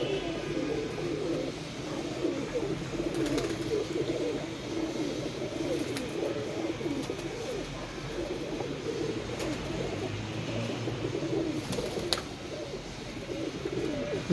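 Indian pigeons, including grey and blue-black birds, coo in low rolling calls that continue throughout, close and fairly loud over steady background noise.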